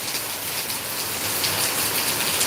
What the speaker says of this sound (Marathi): देगलूरला मोठा पाऊस सुरू आहे